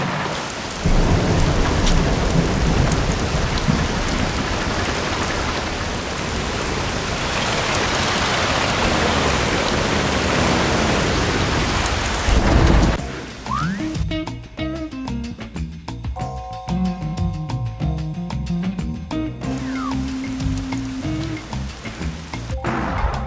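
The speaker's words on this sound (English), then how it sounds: "Raindrops keep falling on my head." Heavy rain and rolling thunder in the Bee Movie Game on Wii, a loud steady downpour that drops away midway to quieter game sounds with scattered tones, no talk.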